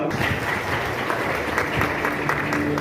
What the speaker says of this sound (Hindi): मैं चाहता हूँ तालियां थोड़ी और जोर से बजे तो अच्छा रहेगा।